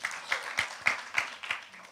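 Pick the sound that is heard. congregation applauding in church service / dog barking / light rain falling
congregation applauding in church service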